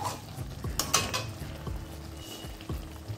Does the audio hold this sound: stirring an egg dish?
yes